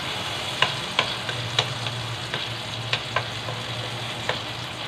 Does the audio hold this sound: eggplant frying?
yes